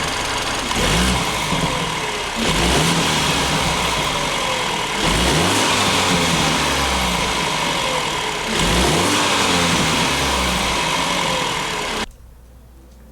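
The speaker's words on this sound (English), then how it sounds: "And now this is going to be some revs in sport mode." Revs in sport mode from a warmed-up 2017 BMW F30 330i B48 engine with BMS intake: four sharp blips rising and dropping back to idle, close by, before the sound cuts off abruptly.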